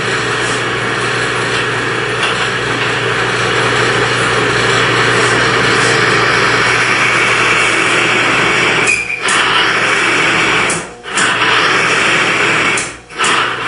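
An electric motor drives a friction test rig with a steel bearing lubricated by a popular engine oil, giving a steady loud whirring, grinding hum that strains and briefly drops out a few times near the end.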